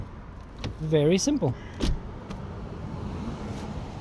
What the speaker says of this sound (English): And this is how you open the front door.